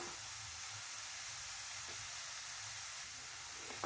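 Ginger garlic paste and chopped green chillies fry in a pan with a soft, steady sizzling hiss that stays faint and even throughout, with no talking.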